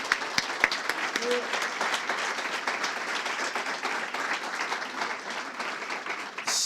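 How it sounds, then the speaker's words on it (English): Audience applause at an MLK honoring event, steady dense clapping from a crowd sustained throughout, loud and fairly close, with no talking over it. "Let's give another round of applause to Ms."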